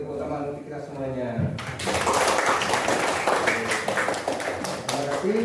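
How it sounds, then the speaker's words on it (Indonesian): Young pupils in a classroom break into a dense round of hand clapping that continues steadily after a teacher's brief spoken lead-in. "Ayo kita beri tepuk tangan untuk kita semuanya."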